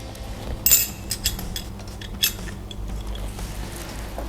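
Small metal shims clink as they are set into a BMW 188mm limited-slip differential during assembly, with a few light close taps and chinks scattered over a quiet background hum.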